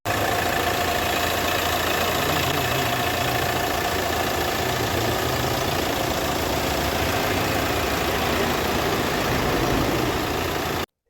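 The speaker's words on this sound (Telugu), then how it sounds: "మీకు ఇంజన్ ఆన్ చేసి సౌండ్ ఎలా వస్తుందో వినిపిస్తాను" A Hyundai Creta automatic's engine idles with a steady, even hum and rumble, close and continuous throughout, with no voices.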